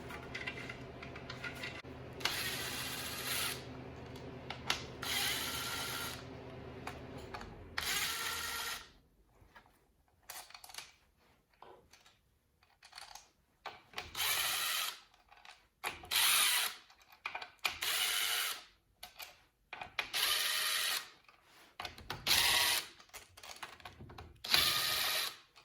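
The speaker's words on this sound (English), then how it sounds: "Let me remove the filter. I'll remove the spacer here, and then I'm going to go ahead and pull the valve body off." A ratchet wrench clicks in short, irregular bursts while the filter, spacer and valve body are unbolted from a Mopar 904 automatic transmission during a street/strip teardown. The sound comes up close, with no talking.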